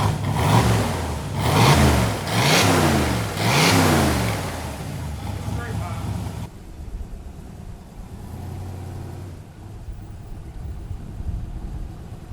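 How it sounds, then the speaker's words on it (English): A 1967 Corvette fitted with side exhaust and a converted 5-speed revs hard in four loud, rising-and-falling bursts, then settles to a lower, steadier idle rumble nearby. "It's got a side exhaust, so it's probably gonna be pretty loud."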